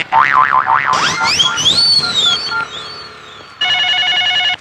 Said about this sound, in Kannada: ಯಾರ್ದಪ್ಪ ಫೋನು?